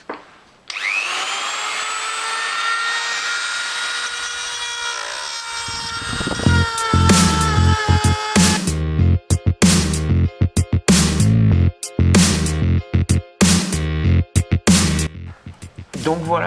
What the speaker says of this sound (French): je vais utiliser une Dremel avec un embout comme ça. Je vais venir limer le bord.